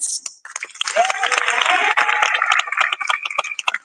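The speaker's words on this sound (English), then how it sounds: "Round of applause to our sponsors who have supported this event." A crowd claps for sponsors at an event, a brisk burst of applause running under a voice that keeps talking and a few cheers.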